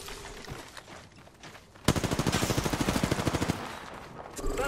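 Automatic gunfire in the video game Apex Legends: a sustained rapid burst of evenly spaced shots, loud and close, with scattered game sounds before and after.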